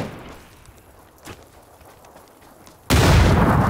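A grenade explosion and gunfire in PUBG, quiet ambience with a faint distant shot, then a sudden loud blast that roars on to the end.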